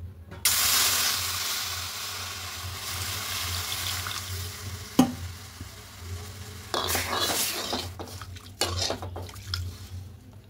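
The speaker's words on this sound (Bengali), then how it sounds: "কড়াই বসিয়েছি, এখানে সামান্য একটু জল দেব।" Water is poured into a pre-heated wok on the stove, a bright splashing rush at first, then a softer trickle and hiss, with a clink partway through and scattered clatter near the end.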